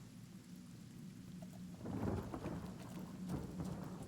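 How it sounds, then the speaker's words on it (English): In Divinity: Original Sin, rain from a rain scroll patters steadily indoors as a low thunder rumble swells partway through and lingers under the downpour, all fairly quiet. "I understand that I used a rain scroll, but why is that creating thunder inside of here?"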